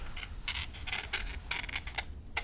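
Quiet rhythmic scraping, a series of short raspy strokes as a hard edge drags across a surface, close up.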